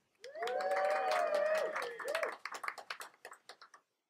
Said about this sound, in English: let's play clapping